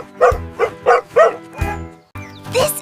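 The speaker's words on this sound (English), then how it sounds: "This is a dog. It loves to play." A dog barking in a quick run of four sharp woofs, then a pause and two more barks, close and clear with nothing else around.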